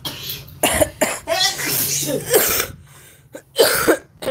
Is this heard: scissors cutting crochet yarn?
no